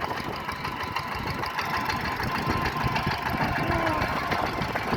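A tractor engine runs steadily nearby at a market in Chonburi, Thailand, a rough, knocking idle with a constant low rumble and no voices.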